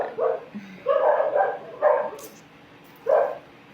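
A dog barks in a few short bursts with pauses between them, fairly close and moderately loud.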